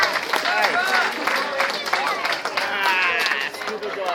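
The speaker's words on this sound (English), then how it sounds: "a big applause for Barry Taylor" An audience applauds and cheers for Barry Taylor at a live gig, a steady wash of clapping from a crowd that holds up loud and continuous throughout.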